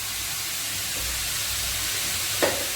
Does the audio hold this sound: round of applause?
no